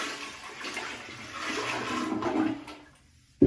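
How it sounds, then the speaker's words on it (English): A toilet flushes: rushing water swells for a couple of seconds, then drains away quietly before a sharp clunk at the end. "I'm going to go ahead and flush this now."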